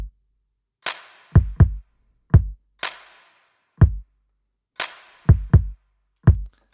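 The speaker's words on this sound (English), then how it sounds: "The drums on their own sound like this." Isolated drum pattern from the song: punchy kicks paired with crisp snare hits in a syncopated groove, close, loud and dry with no other instruments or voices.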